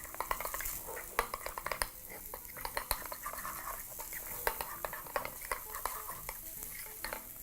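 Ranch dip seasoned with black pepper and salt is stirred in a bowl, giving quiet repeated scraping and clinking of a utensil in soft irregular strokes, close by with faint breathy sounds.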